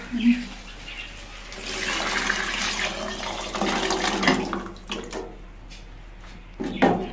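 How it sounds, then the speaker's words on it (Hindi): Water left from boiling black chickpeas is poured into a cooking pot, a splashing, gurgling pour that swells and fades in uneven bursts, with a few clinks and knocks toward the end. "मैंने जिस पानी में मैंने चने को बॉईल किया हुआ था, अब मैं इसमें ऐड करूँगी"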